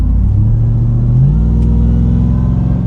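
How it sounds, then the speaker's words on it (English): A 2021 RAM 1500 TRX pickup cruises under light throttle, its deep steady engine rumble rising slightly as gas is added, with a faint supercharger whine riding on top. "You can hear a little bit of the supercharger whine, just barely giving it some gas."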